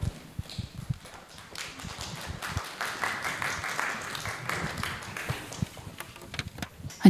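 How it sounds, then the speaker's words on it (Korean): Audience at an Incheon art museum public forum claps to welcome a speaker, steady scattered applause that holds for several seconds at moderate volume. "박수로 청해 주시기 바랍니다"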